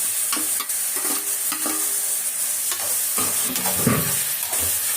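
Prawns stir-fried with drumstick, onion, tomato and ginger-garlic paste, a close, continuous sizzle broken by scraping stirs and soft clatters.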